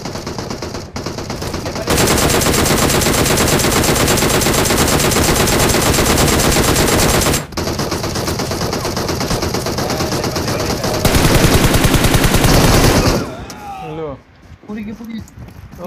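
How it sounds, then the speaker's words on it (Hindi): Sustained bursts of rapid video game gunfire, loud and close, run almost without pause for about thirteen seconds, with a short gap near the middle, before fading into quieter effects at the end. "अचानक से फायर किया था ना, अचानक से फायर किया था।"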